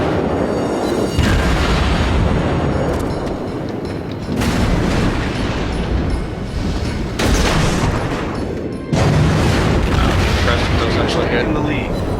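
Naval cannon fire and shell explosions from a Tier IV Phoenix cruiser in the World of Warships video game, loud repeated booming volleys in several bursts, with speech over the top.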